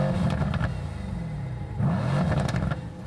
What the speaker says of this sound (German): Gasstöße gleichen einem satten Schnurren.